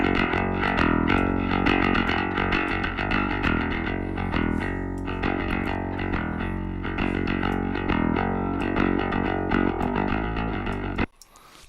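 Distorted bass guitar runs through an Ugritone channel strip with the preamp boosted around 4 kHz, a loud, gritty, sustained riff of repeated notes that cuts off abruptly near the end.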